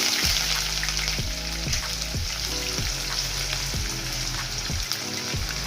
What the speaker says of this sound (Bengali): শুকনো মরিচ ভেজে নেব।